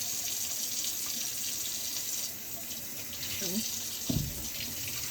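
Yams rinsed under a running kitchen tap, a steady splashing stream of water into a sink, close and continuous, with a few brief knocks and handling sounds near the end.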